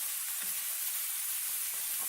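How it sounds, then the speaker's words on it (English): Pepper, zucchini and onion sizzle in a frying pan with a steady, faint hiss and a few soft stirring bumps, and no voices. "Hear that sizzle?"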